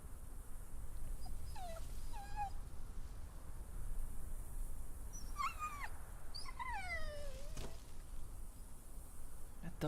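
A dog in The Walking Dead: The Final Season video game gives repeated whimpering, yelping cries in short bursts over steady game ambience, fairly close and moderately loud.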